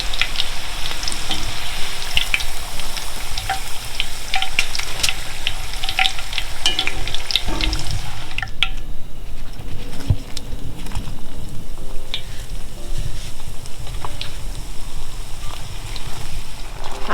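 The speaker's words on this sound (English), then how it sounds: "So this is the second time in the fryer" Battered chicken pieces for General Tso chicken sizzle and crackle in a deep fryer during their second fry, a dense, continuous bubbling hiss with scattered pops, close and steady throughout, with no talking.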